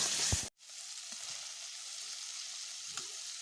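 Young jackfruit and potatoes fry in a pan of spices with Kashmiri chilli powder, giving a steady, soft sizzle after a brief sharp clatter at the start, with no talking.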